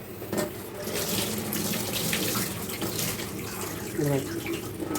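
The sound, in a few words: water running while washing shark pieces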